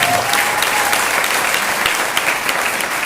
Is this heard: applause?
yes